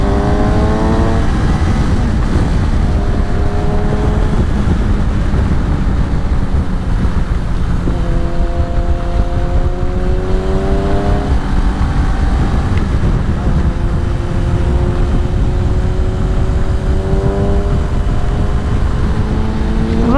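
A Kawasaki motorcycle, either a 2018 Ninja 400 or a 2018 Z900RS Cafe, is ridden in fifth gear, with a loud, steady engine drone as it climbs through revs and heavy wind buffeting the microphone throughout.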